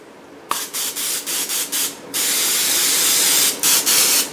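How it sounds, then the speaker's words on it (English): A can of olive oil spray hisses in a series of short bursts, then one long continuous spray, with a few more short spurts at the end; close and fairly loud. "Little spray olive oil."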